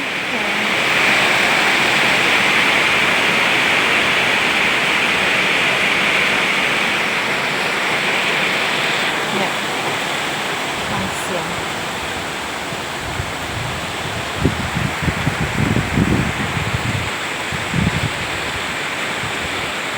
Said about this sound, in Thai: ฟังเสียงฝนกันนะจ๊ะ เพื่อนๆจ้า ทั้งฝนทั้งลมมาเลยนะจ๊ะ